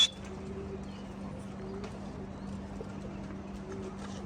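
Pigeons, Kahali and Polish breeds, coo faintly and intermittently from a loft, their soft calls barely rising above a steady low hum that runs throughout.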